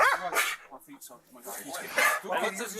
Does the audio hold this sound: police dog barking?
yes